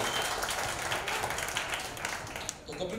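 An audience at a charity foundation event applauds for comedian Kapil Sharma, a dense wash of clapping heard from the crowd for a few seconds, thinning slightly at the end.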